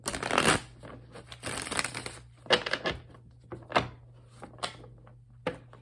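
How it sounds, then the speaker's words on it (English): Crisp riffling and papery flicks of cards being split and shuffled, in several short bursts with pauses between, close up over a faint steady hum. "as I split the deck to shuffle"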